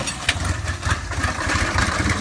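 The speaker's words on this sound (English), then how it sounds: "it might sound like a fart engine, but it'll get you to point A to point B" Engine of a cheap used daily-driver car running with a loud, rough, sputtering idle, a continuous uneven rumble with irregular pulses throughout, close to the microphone and with no voices.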